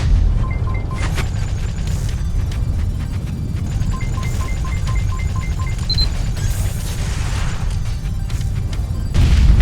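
Missile explosions in the space-combat game Spacebourne, loud rumbling booms and crashing blasts layered with beeping targeting tones over a continuous low engine drone.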